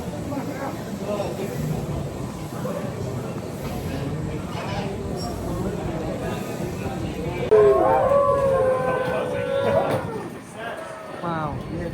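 Furries riding a DC Metro train howl together, imitating wolves with rising, wavering cries in the second half. Train rumble, crowd chatter and talking run throughout.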